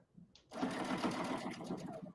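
A sewing machine runs in one fast, steady burst, stitching kids' sweatpants; after a brief faint rustle, the motor whirs close and loud for under two seconds.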